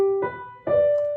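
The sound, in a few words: notes skipping up, every other note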